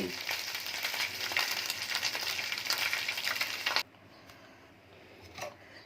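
Mustard seeds, curry leaves, onion, dried chillies and ginger tempering in hot oil for a curd dish give off a loud, steady crackling sizzle that cuts off abruptly, leaving a faint hiss and a brief stir sound.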